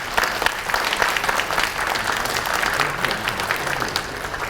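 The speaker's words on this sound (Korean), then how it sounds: "뜨거운 박수로 환영해 주시면 감사하겠습니다" An audience at the opening ceremony of a securities forum applauds to welcome guests, with dense, sustained clapping from a large crowd, fairly close and steady throughout, no voices above it.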